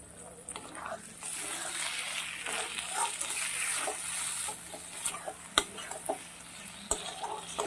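Potatoes and pointed gourd are stirred through a spice paste in hot oil for paneer potol dalna, with a steady close sizzle, soft scraping and a couple of sharp utensil knocks near the end.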